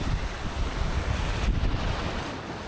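Ocean surf rolls and breaks at Rest Bay, Porthcawl, a steady, close wash of churning water mixed with blustery wind across the microphone, with no talking.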